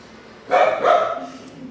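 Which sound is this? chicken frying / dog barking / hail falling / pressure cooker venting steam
dog barking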